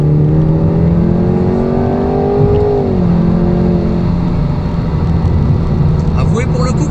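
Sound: Jaguar sports car accelerating hard in sport mode

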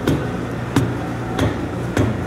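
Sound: dead blow hammer pounding on shaft

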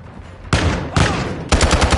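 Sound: gunfire from an enemy in Call of Duty video game

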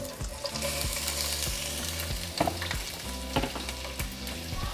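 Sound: onion frying in hot oil in a pan

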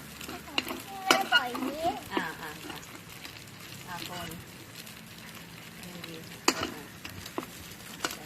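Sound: stirring egg and rice in a pan for shrimp fried rice

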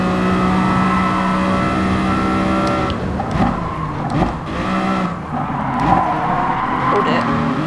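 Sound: BMW Vision Gran Turismo car engine revving in video game Gran Turismo Sport

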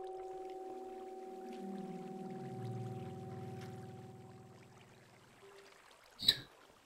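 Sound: flowing water in Minecraft video game

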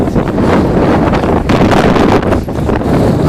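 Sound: wind blowing

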